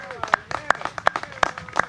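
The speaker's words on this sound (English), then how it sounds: "let's give them a round of applause" Scattered hand claps from an audience honoring Preservation Society members at a county grant announcement for restoring the Rockwood gas house, sparse and fairly rhythmic beneath a speaking voice.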